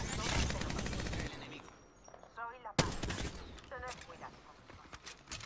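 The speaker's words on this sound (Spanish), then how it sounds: "los compañeros están disparando con alguien" Teammates firing at an enemy during a match of the battle royale game Apex Legends, a dense burst of automatic gunfire followed by sharper scattered shots, with a voice speaking in between.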